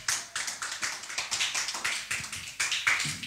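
Church congregation clapping together in acclamation of the Lord during a French evangelical service, a steady rhythmic applause of many hands filling the room with no talk over it.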